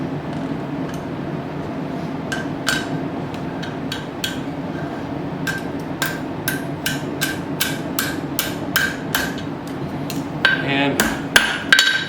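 Blacksmith's hammer striking hot forged metal on an anvil while bending a split cross, a run of sharp ringing blows at a steady but uneven pace, close and loud over a low background rumble.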